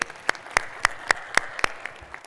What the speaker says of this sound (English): give David Streeter a round of applause, please